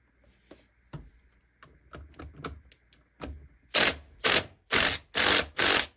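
A ratchet cinches down the flywheel bolt on a 1983 XR200R engine during a top-end rebuild. Sparse light clicks come first, then five loud, close, evenly spaced rasping pulls.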